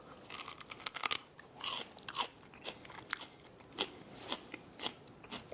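Crunchy bites of a small piece of celery eaten alongside buffalo chicken macaroni and cheese, about a dozen sharp crisp crunches in quick irregular succession, close and moderately quiet, with no talking.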